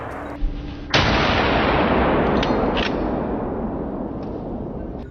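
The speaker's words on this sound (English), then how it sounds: "A thunderous bang echoed, and one boar dropped instantly." A single loud gunshot rings out during a night wild boar hunt in a forest, its sharp crack followed by a long rumbling echo that slowly fades, with no voices.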